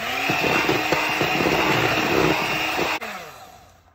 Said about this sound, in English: Again, we are going to whisk.